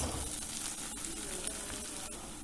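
Chopped green chilies sizzling in a hot pan with grated ginger as they are mixed in: a steady, close hiss of frying with light scraping stirs running through it, brief and without talk.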